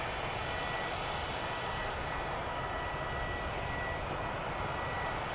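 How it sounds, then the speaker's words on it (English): A UPS cargo jet arriving at DFW Airport gives a steady, distant roar with a faint high whine, unbroken and fairly quiet throughout. "United Parcel aircraft."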